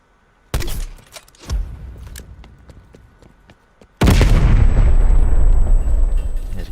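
A launcher tube fires in the video game Black Ops Cold War on the Garrison map: a sharp shot, a second blast about a second later with scattered crackles, then a loud, sustained explosive roar.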